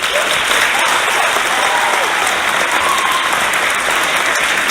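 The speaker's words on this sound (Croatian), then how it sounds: "vjerujem da su zaslužili posebni aplauz" Sustained applause from an audience thanking the singers and musicians after a Croatian church spiritual gathering in Munich, dense steady clapping filling the room for several seconds without pause.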